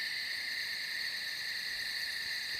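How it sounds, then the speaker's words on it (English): Field recording of crickets chirping on a summer night: a steady, continuous high trill that is moderately faint and unbroken, with no voices or other sounds. "All right, here's the crickets."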